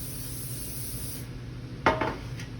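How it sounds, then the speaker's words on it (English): A short hissing spray from an aerosol can of cooking spray onto a cookie sheet, a quick burst followed by a second faint puff, with a light clink of the metal pan. "I'm going to spray it all over the bottom."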